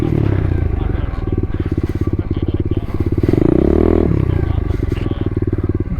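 A pit bike's small engine pulses with a rapid, loud, buzzy thrum while being ridden in sand, revving up and easing off near the listener, with someone talking over it.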